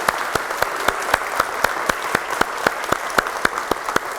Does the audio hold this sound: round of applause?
yes